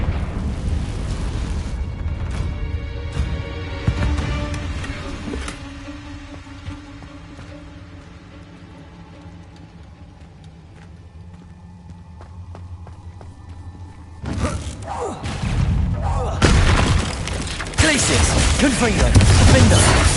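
Confringo blasting spells explode in Hogwarts Legacy on PS5, heavy rumbling booms at the start, a quieter stretch with lingering tones, then a renewed loud burst of crackling blasts and scuffling movement, with a voice briefly underneath.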